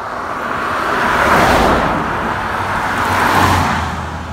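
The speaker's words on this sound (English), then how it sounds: "I could hear the traffic on this 4-lane highway for the past 20 minutes" Traffic roars along a four-lane highway, cars passing close by in two broad swelling waves, a loud rushing hiss that builds, fades slightly and rises again, with no voices.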